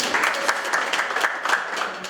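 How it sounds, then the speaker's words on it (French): An audience applauds a performing artist on a French-language show, a sustained, fairly loud patter of many hands clapping with slight rhythmic surges, holding steady for the whole stretch. "On applaudit pour l'artiste."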